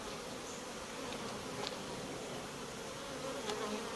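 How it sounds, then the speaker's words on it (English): Bees buzzing and flying around inside a hive, a dense, steady drone with faint individual buzzes passing close by, continuous and fairly quiet with no talk. "You don't want to breathe on your bees."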